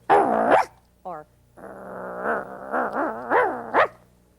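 A person imitates a hungry dog with a voice, giving a short growl-like bark, a brief yip, then a long rumbling growl that rises into several barking bursts, loud and close.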